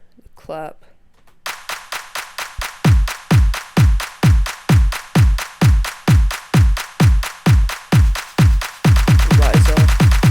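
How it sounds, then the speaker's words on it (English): Sharp clap sample repeating over a pounding, accelerating kick in a trap remix of Siren Head, starting after a short quiet intro and building into a loud, steady electronic pattern. "Then the clap."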